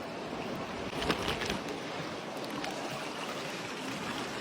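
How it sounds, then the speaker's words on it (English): Water rinses gravel and black sand in a gold pan at a creek, a steady broadband wash with a brief louder splash near the start, close and continuous with no talk. "Give everything a good rinse."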